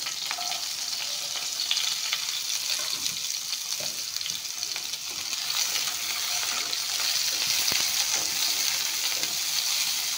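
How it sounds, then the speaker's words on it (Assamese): Onion, garlic and bay leaves sizzle in hot oil with a constant, close frying hiss and intermittent stirring scrapes, steady in level and free of speech. "পিঁয়াজ, নহৰু, তেজপাত একেলগে দি দিম। ভাজি ল'ম এইখিনি ধুনীয়াকৈ।"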